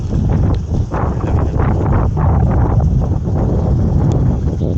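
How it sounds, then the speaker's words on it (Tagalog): Strong wind at a fishing spot in Baseco, Philippines buffets the microphone with a continuous low, rumbling roar that swells and dips in gusts, with no voices. "lumakas pa yung hangin"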